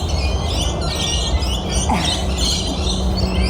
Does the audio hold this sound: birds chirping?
yes